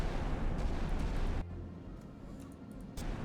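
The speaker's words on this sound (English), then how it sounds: "Firing 4-round bursts." Naval gunfire in the warship simulator Sea Power, a loud, dense rumbling blast sustained for about a second and a half, then dropping to a lower roar, with another burst near the end.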